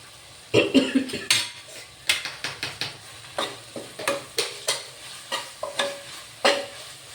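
Ginger garlic paste fried in a pan and stirred, with a run of distinct scraping stir strokes at a fairly even rhythm over a faint sizzle, close and clear.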